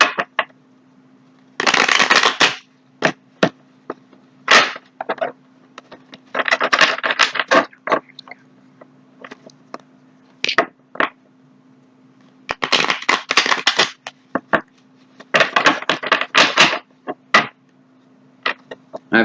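Rider-Waite tarot cards are shuffled in repeated quick riffling bursts, crisp papery flutters separated by short pauses, close and alone with no talk.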